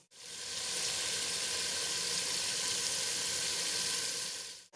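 Chicken achar gosht frying in a pan, a steady, loud, continuous sizzle with no break for nearly five seconds before it cuts off abruptly.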